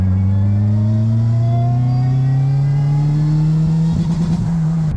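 Tuned JRSC supercharged car engine on high boost with cat delete, revving steadily upward in a loud, close, sustained climb before stuttering and bouncing against the rev limiter near the end.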